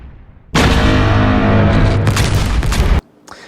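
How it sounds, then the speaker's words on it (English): A massive synthesized seismic charge boom erupts suddenly and roars for a few seconds with deep rumble and crackling texture, then cuts off abruptly. "the first creation of my seismic charge sound"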